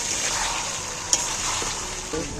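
Chicken and yogurt stirred in a hot pan, a steady close sizzle with scraping spoon strokes and a few sharper clinks near the end, no voices.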